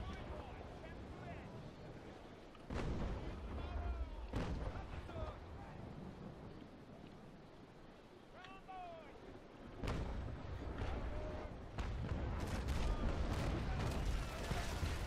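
12-pounder cannons on a sailing warship fire broadsides in the naval combat video game Naval Action, with several deep booming blasts and rumbling echoes spread through the clip and someone talking over them.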